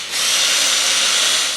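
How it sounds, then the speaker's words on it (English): A power drill runs a 1/8 inch pilot hole into clamped wood on a box joint jig, one close, continuous high whirring burst from start to finish with no talking. "And drill a pilot hole, 1/8 inch pilot hole."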